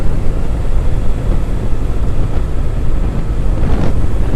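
A steady, loud Triumph Thruxton motorcycle engine roar with heavy wind rush while riding, constant and close throughout, no voices.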